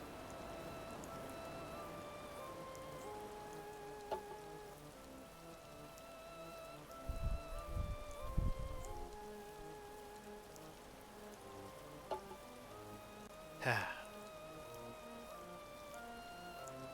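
Continuous soothing rain in the video game Animal Crossing New Horizons, an even patter under soft musical tones, with a few brief low knocks and one sharper accent, no voices.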